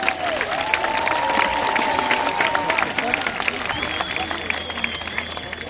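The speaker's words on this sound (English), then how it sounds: "One more big applause for Walka and audience." A crowd at a gladiator fighting show in Puli applauds loudly after a bout, a dense wash of clapping and crowd noise that tapers slightly toward the end, with faint tonal sounds running through it.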